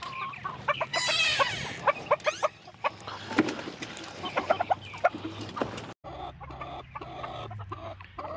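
Hens clucking in short, repeated bursts close by, with a few louder squawks and a rising crow-like call mixed in; no talking.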